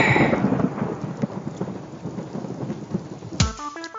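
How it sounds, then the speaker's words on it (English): Thunder in a GTA Vice City radio ad for the Maibatsu Thunder vehicle, a loud rumbling crash with heavy rain hiss filling the clip before it cuts abruptly to a short musical jingle. "Because after you get struck by lightning, there's thunder."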